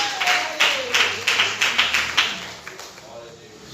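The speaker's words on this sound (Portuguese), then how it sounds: "Pode bater as palmas para Jesus." A congregation at an evangelical church service claps in unison, with sharp, rhythmic claps about three per second that fade out toward the end, and a voice heard faintly underneath.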